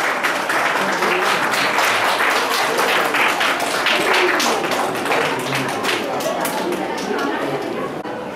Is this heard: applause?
yes